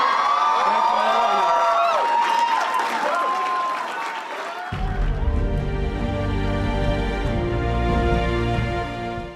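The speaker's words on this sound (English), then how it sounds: "so give yourself a round of applause" A room crowd at a college basketball team gathering claps and cheers loudly with whoops and shouts, then the cheering fades as a steady sustained musical tone takes over in the second half.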